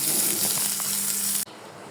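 Cut pumpkin pieces fry in hot oil in a pan, a steady close sizzle that stops abruptly partway through.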